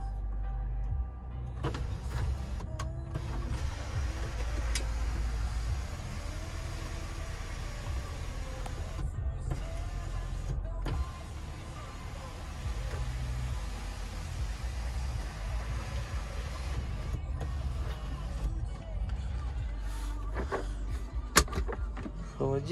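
A steady electric sunroof motor whirs inside a 2013 Toyota Land Cruiser Prado for a long stretch, with brief pauses and a few small clicks and thumps along the way.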